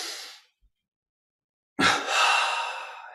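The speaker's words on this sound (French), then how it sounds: "double inspire, on contracte tout" A person takes a deep double inhalation during a guided breathing meditation: a brief breath at the start, a silent pause, then a sharp catch that flows into a long, loud, close breath drawn in.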